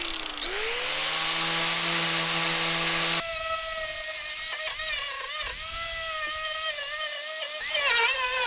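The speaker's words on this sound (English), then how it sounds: "I might grab the grinder quick back of the box there and just clean that up a little bit" An angle grinder cleans up metal on an OBS Chevrolet Sierra work truck fender, whining loudly up to speed, then shifting pitch and rising and dipping as it bites into the steel.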